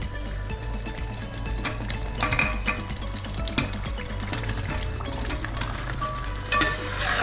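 Chicken roast masala sizzling and frying steadily in a pan for chicken roast, a constant crackling hiss with occasional stirring scrapes, close and fairly loud, with no talking.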